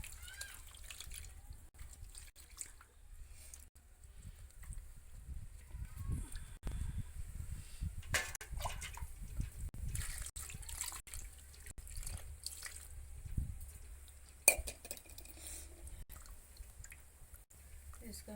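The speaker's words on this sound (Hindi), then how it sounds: "हम इसका पानी डाल के पहले साफ कर लेती हूँ" Potatoes, tomatoes and eggplant being rinsed with water in a kitchen, soft splashing and dripping under a voice, with a few louder splashes near the end.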